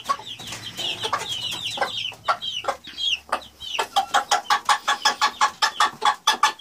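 Ross 308 broiler hens and chicks cluck and peep close by in a rapid, insistent run of calls, with a steady pulsing series of clucks building toward the end.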